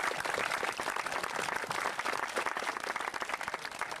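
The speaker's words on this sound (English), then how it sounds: "a small round of applause for my wife" A small room of guests at the opening of new football club dressing rooms gives a steady round of applause, dense clapping at moderate distance with no talk over it.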